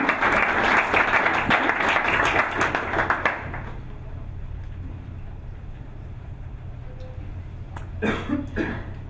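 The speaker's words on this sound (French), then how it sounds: "je vais vous demander d'applaudir Camille qui va nous parler de Design Thinking" Audience applause at a French company client event as a speaker is introduced to talk about design thinking, a dense wash of clapping for about three seconds that fades into quiet room tone, with a brief stir near the end.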